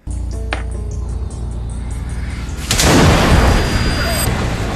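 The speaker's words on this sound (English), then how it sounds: "deliberately mixes the wrong chemicals to cause an explosive cloud of gas and runs out of the RV" A chemical explosion from mixed chemicals inside an RV in the desert bursts out as a loud whooshing boom partway through, followed by a sustained roaring hiss.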